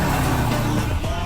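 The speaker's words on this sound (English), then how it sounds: "Griffin Burke with launching that Subaru WRX bug eye" A Subaru WRX bug eye launches hard, its engine roaring loud and close in a dense, sustained burst with no voices.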